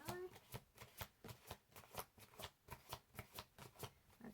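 A deck of tarot cards is shuffled by hand in quick, even riffling bursts, about three per second, close and crisp and heard alone for several seconds.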